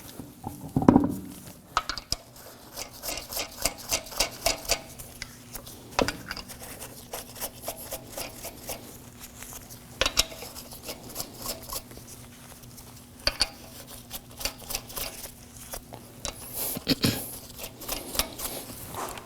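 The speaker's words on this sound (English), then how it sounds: "Start your lug nuts by hand." Lug nuts threaded by hand onto the wheel studs of a 2014–2020 Acura MDX make soft, irregular metallic clicks, ticks and scraping rubs, close and fairly quiet, coming in uneven bursts.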